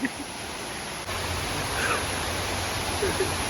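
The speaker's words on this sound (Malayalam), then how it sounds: "അതിഗംഭീരമായ ഒരു വെള്ളച്ചാട്ടമാണിത്." Steady, full broadband rush of a waterfall at a forest campsite, with a constant close roar that holds level throughout and no talk.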